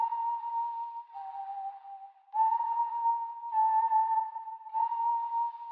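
A person whistles a simple tune of several sustained notes, clear and alone, with brief pauses between phrases.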